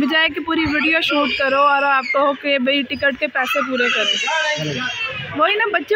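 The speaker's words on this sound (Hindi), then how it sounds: "छोटा बच्चा रो रहा है" A small child crying and wailing on a fairground ride, loud and continuous with shrill rising sobs, while an adult talks over it close by.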